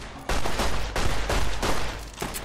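Gunfire in the video game Fallout New Vegas: a dense, loud burst of rapid shots, then several more quick volleys in close succession, with no talking.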